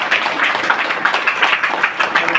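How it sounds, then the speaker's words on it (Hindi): Loud, sustained applause from a meeting audience, many hands clapping together in a thick, even wash of sound that carries on without pause. "डॉक्टर एस रंजन सर के लिए जोरदार ताली होना चाहिए"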